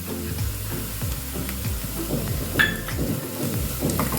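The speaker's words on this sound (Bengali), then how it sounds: "2 মিনিটের মতো এইভাবে হালকা নাড়াচাড়া করব" A spinach curry for palak paneer sizzles steadily in a pan while a spoon stirs it gently, giving repeated soft scrapes over a continuous frying hiss and a low hum, close by and without speech.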